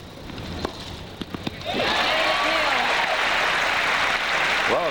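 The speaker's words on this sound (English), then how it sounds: "Laurie's never heard this many people applaud for her before, and that deserved a lot of applause." A tennis crowd at the 1987 US Open semi-final breaks into sustained applause after a few scattered claps, filling the stadium while a commentator's voice rises over it.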